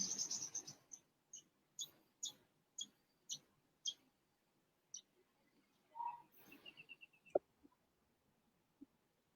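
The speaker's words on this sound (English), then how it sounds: "The birds chirping." Small birds chirp nearby in a quiet outdoor setting: a string of clear, evenly spaced high tweets, followed by a brief warble and a sharp click, with soft background hiss and no talking.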